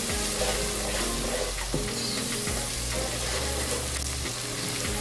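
Pieces of liver and fish fry in a hot pan for abacha, a continuous loud sizzle with occasional scrapes and stirring clatter, close up and with no talking over it.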